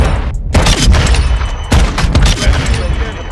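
Desert Eagle pistol shots in Modern Warfare 2, loud booming reports fired in quick succession with sharp onsets and brief gaps between them, heard alone with no talking.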